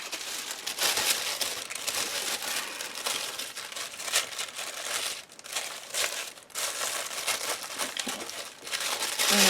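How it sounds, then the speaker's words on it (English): Tissue paper is crumpled and pressed onto the back of a junk journal page, a continuous close crackling and rustling with a few brief pauses, fairly loud and with nobody speaking. "Let's put some tissue paper on the back of this one."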